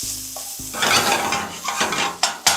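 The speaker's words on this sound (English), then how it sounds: "So just keep your pan nice and low and make things move around a little" Vegetables sautéing over low heat in a pan for a plant-based lunch, crackling sizzle with stirring scrapes and a couple of sharp utensil knocks near the end, no talk.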